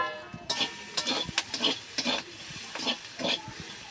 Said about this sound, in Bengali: দেখি কুঁদরিটা ভাজা হয়ে গেছে নাকি